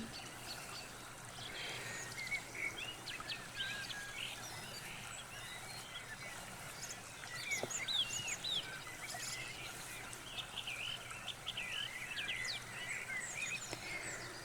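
Birds chirp and trill in a soft outdoor soundscape, their calls scattered throughout over a steady background of flowing stream water.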